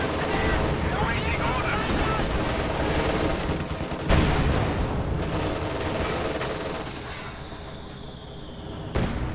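A Panther tank fires in Company of Heroes 2 amid loud, dense battle noise, with heavy booming shots standing out around the middle and near the end over constant gunfire rumble.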